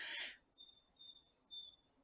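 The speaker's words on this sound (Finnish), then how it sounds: "linnut laulaa nyt jo tosi kovasti" Birds sing in a spring forest, with thin, high whistled notes repeating at a distance in short, evenly spaced phrases after a brief rustle at the start.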